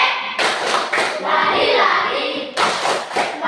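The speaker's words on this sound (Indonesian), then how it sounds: "Kita sekali lagi memberikan tepuk Sakeus." Tepuk Sakeus rhythmic clapping from a group in a Christian religious lesson, with bursts of close, loud hand claps in a patterned beat and voices, including children's, chanting along.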